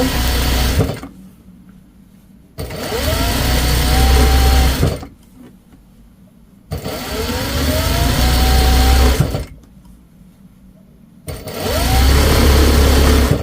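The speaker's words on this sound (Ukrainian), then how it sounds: "і строчимо по колу." A sewing machine stitches around an elastic waistband while the elastic is stretched slightly, running in three loud, steady bursts with short pauses between them, close and without talk.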